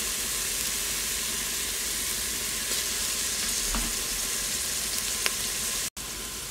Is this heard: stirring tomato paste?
yes